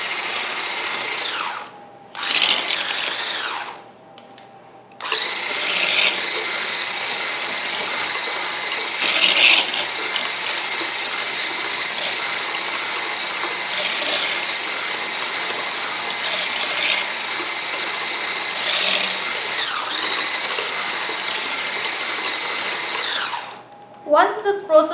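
A motorized whisk whirs steadily through eggless vanilla cupcake batter, stopping briefly twice early on, then running for nearly twenty seconds before cutting off.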